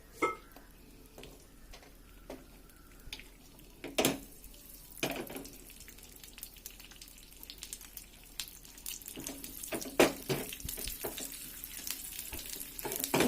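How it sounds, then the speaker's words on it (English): Raisins, cashew nuts and almonds frying in a pan, a soft continuous sizzle with sharp stirring scrapes and bursts, close by. "You just fry it for 1 minute"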